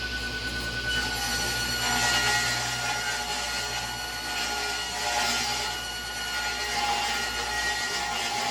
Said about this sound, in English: start by ripping it into essentially 6-inch sections